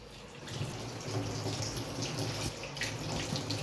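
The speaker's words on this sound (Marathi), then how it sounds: "आता इथं हा भाजीपाला मी स्वच्छ धुवून घेत आहे." Vegetables washed under a running tap, a steady broadband rush of water with faint splashing throughout, close and continuous, no talking.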